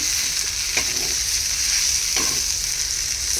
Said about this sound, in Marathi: परत एकदा भाजी जी आहे ती परतून घेऊयात भाजी छान शिजत आलेली आहे